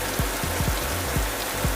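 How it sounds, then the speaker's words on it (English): Heavy rain pounds a car during a storm while driving south on highway 177 toward Stillwater, a steady dense hiss of drops on the body with a few low thumps, loud and close, no voices. "I'm in the rain core right now."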